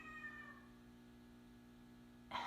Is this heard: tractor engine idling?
no